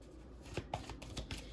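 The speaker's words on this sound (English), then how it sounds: "we are going to be shuffling the Angels Among Us cards" A deck of Angels Among Us oracle cards being shuffled by hand, giving soft papery riffles and several sharper slaps in a quick, close, irregular rhythm with no talking.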